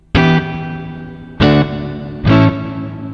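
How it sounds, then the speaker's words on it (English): Three distorted guitar chords played direct through a Tech 21 SansAmp FlyRig 5 pedal with the reverb fully up, each hit sharp and loud, then a long washy reverb tail between strikes. "So let's turn it all the way up, the reverb, just so you can hear how that sounds like that."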